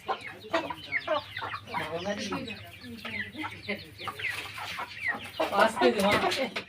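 Sonali hens clucking steadily in a busy flock inside a coop, a continuous chorus of short cackles close by, with a person talking over them at times.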